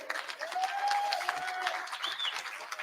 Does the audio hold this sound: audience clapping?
yes